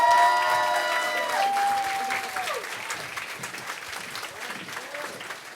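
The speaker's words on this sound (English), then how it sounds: "Can we give another round of applause" An audience at the 53rd Celebration of Justice event applauds after a speech, loud dense clapping that starts strong and slowly tapers, with a few cheers and a brief tonal whistle-like sound early on.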